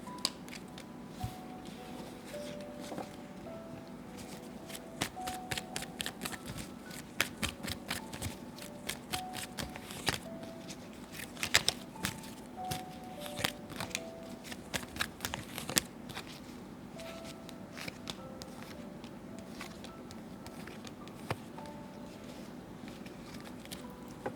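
Tarot cards being shuffled by hand in a quiet room, a continuous run of soft riffling, slapping and flicking with occasional sharper snaps, steady and close without talk.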